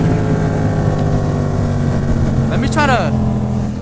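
A Yamaha MT-07 parallel-twin motorcycle engine rumbles steadily up close, with a voice speaking briefly over it near the end amid some wind noise.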